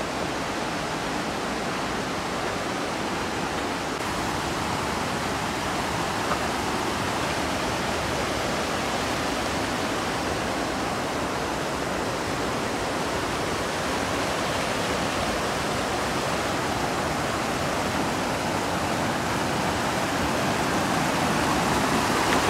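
Steady, loud rushing water of the Sannighat river in Nepal, filling the whole stretch with an unbroken broadband roar and no voices.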